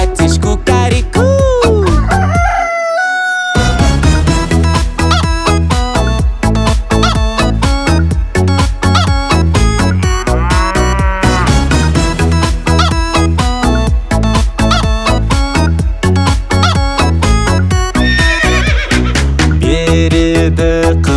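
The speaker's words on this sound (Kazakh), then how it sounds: "тауықтар ко-ко-ко" Chicken clucking sounds in a Kazakh children's song about farm animals, heard over steady, loud music with bright synth accompaniment throughout.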